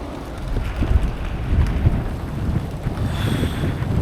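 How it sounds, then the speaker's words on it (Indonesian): Rain pouring down under a darkening sky at a fishing pond in Kamal Muara, a steady dense patter with low rumbles of thunder rolling beneath, continuous and fairly close, with no talking. "Gelap banget nih, turun hujan."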